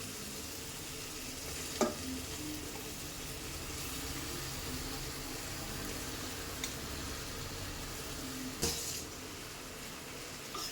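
Ginger garlic paste fries in a pan for thattikoottu biryani, a faint steady sizzle running throughout, with two brief clinks of a utensil against the pan and no voices.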